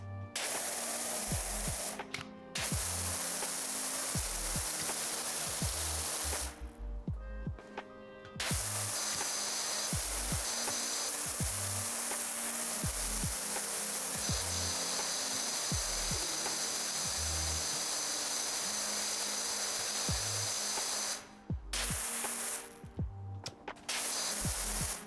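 A power washer in the game PowerWash Simulator 2 sprays in long, steady hissing bursts. A few short pauses break the spray, and a faint rhythmic ticking runs underneath.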